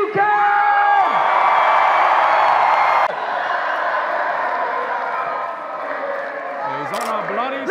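A large crowd at a live show cheers and screams loudly, a sustained roar of voices with whoops and yells that eases slightly partway through, with a voice shouting over it toward the end.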